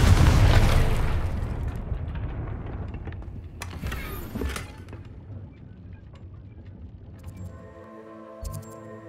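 A Confringo spell explosion in Hogwarts Legacy bursts with a loud, deep boom that rolls off into a long fading rumble, followed by quieter game effects.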